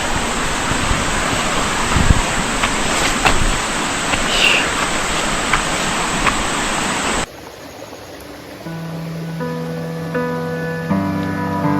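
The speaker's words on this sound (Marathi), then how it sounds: "भरपूर खोल आहे आणि ही नदी आहे" A river in the hills below a mountain gives a dense, continuous rush of flowing water for about seven seconds, then cuts sharply to quieter sustained tones.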